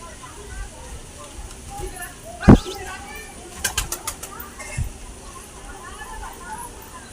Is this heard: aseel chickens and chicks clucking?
no